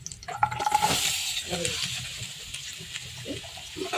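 Raw mango pieces drop into a hot pan of sizzling mustard seed and curry leaf tempering, followed by crackling fry sounds and scraping stirs that come close and fairly loud.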